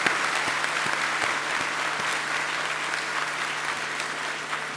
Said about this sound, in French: afin que nous puissions vous applaudir